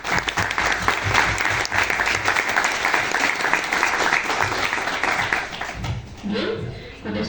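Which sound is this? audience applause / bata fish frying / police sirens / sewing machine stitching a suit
audience applause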